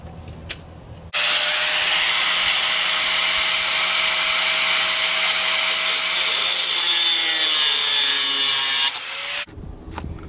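A saw cuts 3.5 inches off the end of a rod during installation of a propane heater in a small log cabin, one loud, continuous, close stroke lasting about eight seconds before stopping abruptly.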